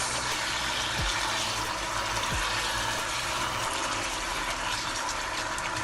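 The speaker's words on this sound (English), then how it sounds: "So I'm gonna add a little more water to this." Water pours steadily into a pot of Jamaican brown stew pork browned with burnt sugar, making a continuous, even rush of noise with a low background hum and no talking.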